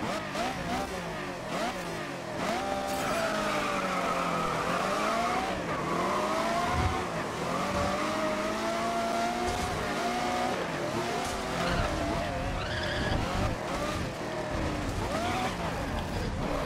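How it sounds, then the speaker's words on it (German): Race car in the racing game GRID sliding sideways through corners at Crescent Valley Raceway, a continuous engine drone with rising and falling pitch and sustained tire squeal throughout, loud and close. "sich hier seitlich in die Kurven zu schmeißen und bis zum Ende durchzudriften"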